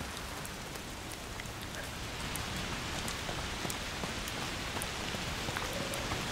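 Steady rain in the video game A Plague Tale Requiem, a dense continuous patter of drops on surfaces with scattered sharper splashes, rising slightly in level partway through, with no voices.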